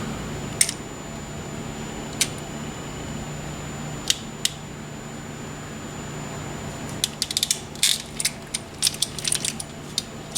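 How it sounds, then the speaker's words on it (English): A hand crimping tool clamps a spark plug wire terminal on a Plymouth Barracuda, making several sharp, close mechanical clicks bunched toward the end after a quiet stretch with a few isolated ticks. "I actually have started turning it over and giving it an additional crimp."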